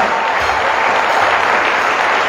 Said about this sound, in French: Est-ce qu'on peut acclamer pour la dernière fois?